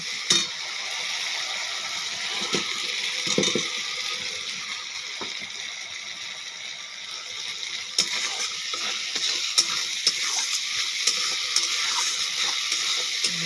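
Fried potatoes being stirred into a spice masala in a pan, a steady sizzle and frying hiss with scattered scraping clicks of a spoon against the pan, continuous and close.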